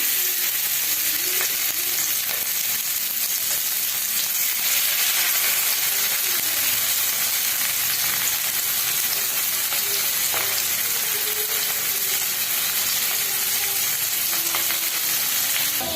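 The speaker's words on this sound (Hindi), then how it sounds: "एबे आम सुखुआ को भाजी नबा।" Salted dried fish frying in hot mustard oil in a pan gives a steady, dense sizzle with crackling pops that runs without a break the whole time and carries no talk.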